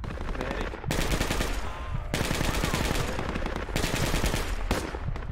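Sustained automatic gunfire from the military shooter game Project Reality, dense and loud with continuous rapid bursts that briefly pause and resume, with faint voice chatter underneath.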